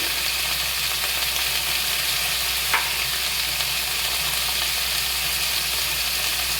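Vegetables — ridge gourd and pumpkin for a light fish curry — fry in a hot pan with a steady, close broadband sizzle throughout, one brief scrape of stirring partway, no talking.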